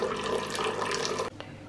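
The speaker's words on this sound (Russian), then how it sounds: "я помыла бол, колбу и наполняю его водой" Tap water runs into the bowl of an aroma diffuser for a little over a second, a bright, close hiss that stops abruptly, followed by a faint drip.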